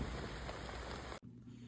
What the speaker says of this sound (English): you have no idea how glad I am that it's raining